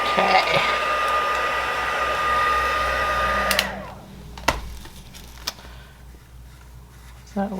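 A heat tool blows a steady, close whirring hum while melting embossing powder on a card, then clicks off, leaving quiet room sounds and a few small taps.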